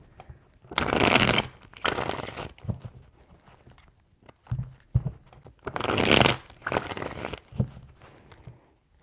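Tarot cards being shuffled in several bursts, two long riffling passages with shorter rustles and taps between them, close and fairly loud with no talking.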